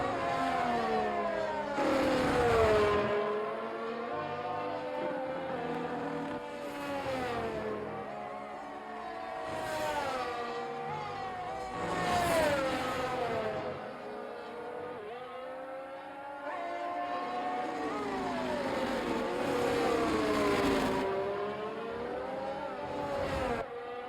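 Race cars roar past repeatedly at a race in Qatar, engines rising and falling in pitch as each one approaches and fades, with several loud passes in a row.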